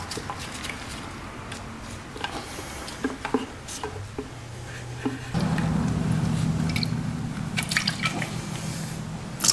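Coolant being dumped from a 2000 Yamaha YZF-R6 motorcycle's reservoir into a pan, a fairly close series of drips and liquid splashes building into a steadier pour in the second half.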